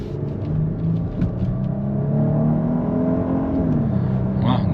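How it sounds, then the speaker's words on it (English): 2023 Genesis GV80 3.5T Advanced SUV engine accelerating, a smooth rising drone heard from inside the cabin that climbs, eases briefly and climbs again over a steady road rumble. "Very nice acceleration, very smooth engine, very smooth transmission."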